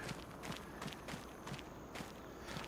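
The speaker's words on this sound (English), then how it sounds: "Alright, so we'll walk down to the tractor." Footsteps walk at a steady pace in Farming Simulator 25, a regular soft crunch of treads over a hissy outdoor ambience.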